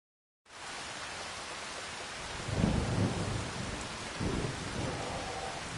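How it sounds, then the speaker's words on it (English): Steady rain hissing throughout in Farming Simulator 25, with two low rumbles of thunder rolling in partway through. "It figures it's raining"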